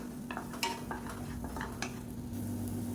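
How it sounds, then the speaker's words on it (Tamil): Garlic fries in oil as a utensil stirs it, with a soft sizzle under repeated scraping and clinking strokes, close and steady, no voices. "இப்போ பார்த்திங்கன்னா பூண்டு ஓரளவுக்கு நல்லா வதங்கிருச்சு"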